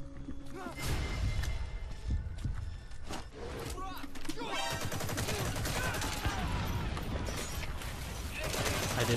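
Unsuppressed gunfire in Metal Gear Solid V: The Phantom Pain, a dense run of loud shots and bursts mixed with game sounds and chatter, ongoing through the whole stretch.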